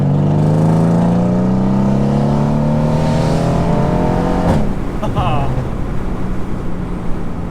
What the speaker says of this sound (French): en gardant ce V8 tout simplement qui fait partie de la C63